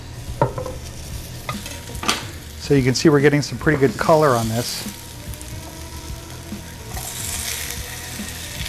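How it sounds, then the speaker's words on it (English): Potatoes sizzle steadily in a hot pan while a person talks over the frying. "I can hear them sizzling."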